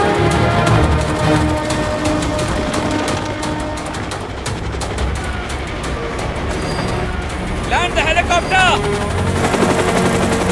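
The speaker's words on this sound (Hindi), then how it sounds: "Land the helicopter!" A helicopter roars throughout a tense action movie scene, its steady rotor drone loud and continuous beneath shouting voices, with bursts of gunfire-like clatter and a brief warbling tone near the end.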